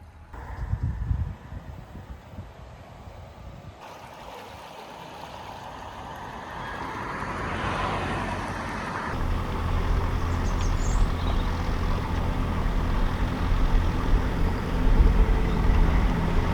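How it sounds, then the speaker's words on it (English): A narrowboat engine on the Stratford Canal, from the boat ahead, makes a steady low rumble that grows louder and fuller over the stretch, with water and ambient noise around it and no voices. "If you can hear engine noise, that's Pete and Caroline's boat in front."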